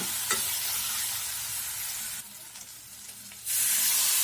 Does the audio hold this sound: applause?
no